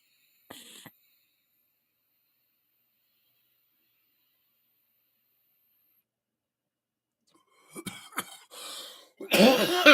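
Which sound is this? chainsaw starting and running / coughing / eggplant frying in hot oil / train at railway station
coughing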